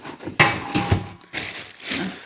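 Tefal cooking pots being handled, a few sharp metallic knocks and clanks of pot bodies and lids, close and brief.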